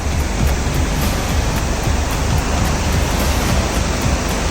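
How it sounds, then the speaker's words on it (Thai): A waterfall in Ranong province, Thailand, heard as a loud, constant broadband roar of falling water with no pauses and no voices. "น้ำตก จุดเช็คอินลับๆในจังหวัดระนอง"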